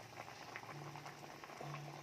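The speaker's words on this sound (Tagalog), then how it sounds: "Kumukulo na talaga siya" A pot of pinakbet vegetable stew simmers at a boil, giving soft, faint bubbling and popping that runs steadily and quietly.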